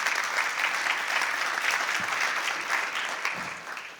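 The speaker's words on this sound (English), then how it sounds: "Let's give him a round of applause." An audience at a healthcare policy conference claps for a keynote speaker, a dense, even round of applause that fades slightly at the end.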